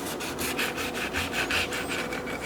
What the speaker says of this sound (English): Let's cut them open. We got these nice serrated blades.